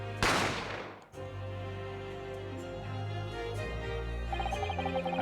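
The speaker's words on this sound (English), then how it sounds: "I didn't have time to think about where the sound of the gunshot had come from." A single sharp gunshot effect from the detective video game The Great Ace Attorney cracks loudly near the start, followed by a sustained low musical drone and swelling dramatic score.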